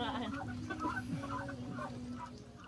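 Native chickens in a Philippine village cluck close by in a series of short, irregular calls over low background noise, with voices faintly in the mix.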